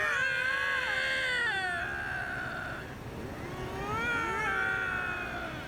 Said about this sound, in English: The lynx, certainly a majestic animal, but during mating season they sound like two drunk fraternity brothers badly dubbing a samurai movie.